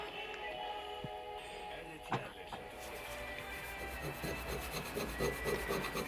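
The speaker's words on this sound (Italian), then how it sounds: "ho rifinito il manico nella zona del gradino e l'ho carteggiato interamente fino a raggiungere un risultato molto buono" Sanding the wooden handle of a Cold Steel Trailhawk tomahawk: steady, fairly quiet abrasive rubbing and rasping that grows denser in the second half, with one brief sharp knock partway through.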